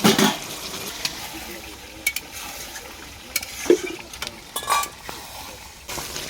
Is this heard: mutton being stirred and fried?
yes